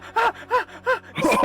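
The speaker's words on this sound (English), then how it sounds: "Panting like a motherfucker." A person breathes heavily and pants after exertion, giving three rhythmic breaths close to the mic, then a louder, rougher exhale as the gasps pick up.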